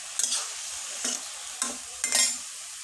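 Sliced onions and green chilies sizzle in hot oil with garlic, bay leaf and cumin in a pan, with four quick bursts of crackling as the mix is stirred, fairly faint between the stirs.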